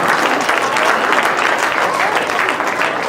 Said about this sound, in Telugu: శ్రీని పాల్దెపు, లక్ష్మీ పాల్దెపు, మీరు పైకి రావాలందరూ దయచేసి చప్పట్లు కొట్టండి.